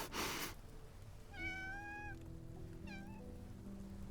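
Cat in the game Love and Deepspace gives two clear, close meows, a longer rising one followed by a shorter one, after a brief rustle, over a quiet background.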